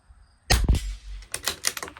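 A CZ 457 LRP rimfire rifle fires Lapua Super Long Range supersonic ammunition at a 50-yard range, with a pair of sharp, loud close cracks followed by a quicker cluster of clattering reports.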